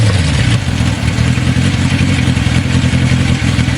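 A Honda CB750 motorcycle engine runs with a loud, constant, throaty drone, close up and alone, holding steady with slight pulsing throughout.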